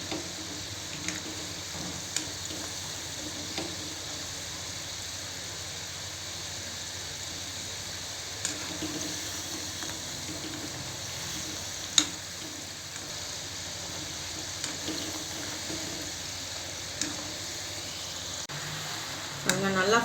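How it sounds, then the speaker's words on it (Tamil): Peanuts fry in a pan for masala peanuts, producing a soft, even background sizzle with occasional small clicks, while a person talks over it. "கடலை நல்லா ஃப்ரை ஆகி வரட்டும்."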